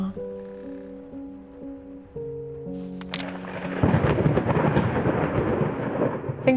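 Thunder cracks and rolls into a steady wash of heavy rain during a stormy night in the video game Layers of Fear, entering over a quiet sustained musical tone and then swelling loud and dense with no talking.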